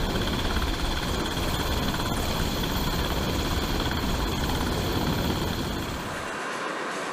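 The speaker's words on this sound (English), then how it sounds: "helicopters like the MH-60S or MH-60R Seahawk are meticulously maintained" An MH-60S or MH-60R Seahawk helicopter runs with a loud, dense, continuous rotor and turbine roar, steady throughout and easing slightly near the end.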